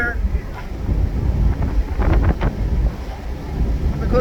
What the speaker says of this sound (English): Got the wind blowing here.